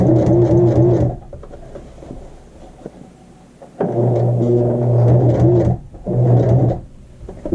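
A sewing machine stitches straight across fabric for a drawstring bag in loud, close bursts of rapid mechanical whirring, separated by quieter pauses with light handling clicks, and no talk.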